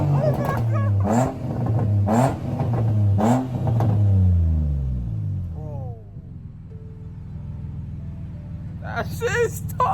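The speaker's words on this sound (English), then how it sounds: "I want him to hear the exhaust" A car with an aftermarket exhaust revs repeatedly in sharp, loud bursts with a raspy exhaust note, then settles into a low idle; voices are heard over it.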